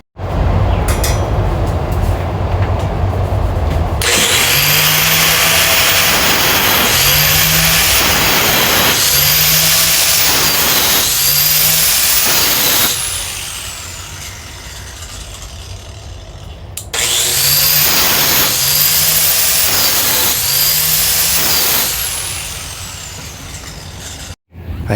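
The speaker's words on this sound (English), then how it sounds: "the system I was using there is called the All-American Sharpener" All-American Sharpener grinding lawn mower blades: a loud continuous grinding whine with rhythmic scraping passes repeating about once a second, pausing briefly midway, then resuming.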